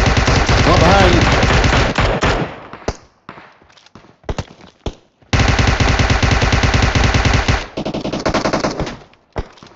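Loud bursts of rapid automatic gunfire in a video game firefight, long rattling volleys broken by short gaps and scattered single shots, with a voice speaking briefly under the shooting.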